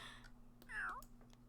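Short, clear meow from a cat in the game Enchantacy, a single rising-falling call over faint background hum and a few soft ticks.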